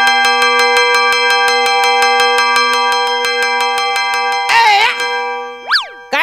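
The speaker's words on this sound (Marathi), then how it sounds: "काय घंटी वाजाडतो रे?" On a comedy stage show, a bell is rung rapidly and evenly about two dozen times in a steady, bright, ringing series, followed by a short burst of noise and a couple of comic sliding boing effects.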